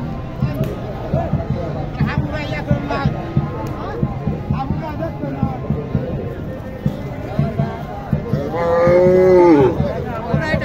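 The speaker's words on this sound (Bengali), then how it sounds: "গরুটা একটু দেখা গেছে, দেশি চমৎকার খাটের একটি গরু" A local bull at a cattle market in Naogaon moos loudly and close near the end, after a stretch of market bustle with people talking and scattered knocks.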